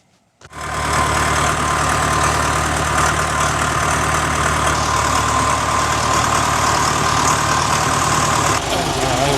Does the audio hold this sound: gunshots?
no